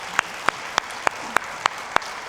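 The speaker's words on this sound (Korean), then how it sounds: "박수로 영광 올려드리겠습니다." A church congregation at a Sunday service claps together in steady unison, about seven sharp, evenly spaced claps in quick rhythm, with no talk.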